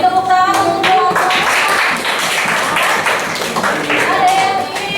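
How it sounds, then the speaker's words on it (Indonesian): Classroom applause for a student group that has just finished presenting, a burst of loud, uneven clapping from many hands nearby with some voices mixed in. "Beri tepuk tangan untuk kelompok."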